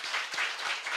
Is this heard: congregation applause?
yes